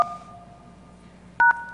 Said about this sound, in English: Ian is gonna call the PBX using a soft phone